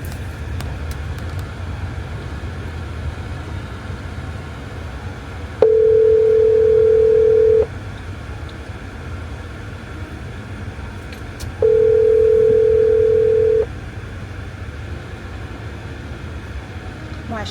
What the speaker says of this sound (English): Why is she not answering her phone?